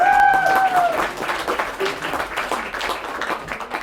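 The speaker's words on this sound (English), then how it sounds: "Everybody give her a round of applause." An audience at a magic show breaks into loud, dense applause that carries on steadily throughout, with a brief whistle-like tone near the start.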